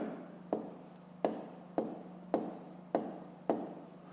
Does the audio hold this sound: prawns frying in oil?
no